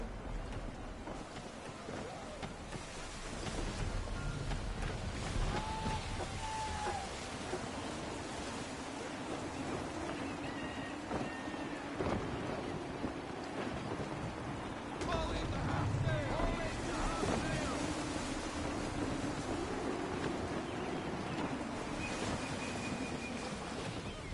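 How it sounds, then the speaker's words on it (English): Gusty wind and sea waves aboard a sailing ship in Assassin's Creed III, a steady broad rush of air and water with creaks and knocks from the vessel, swelling in gusts, while voices speak intermittently over it. "Gusty winds can be difficult to manage."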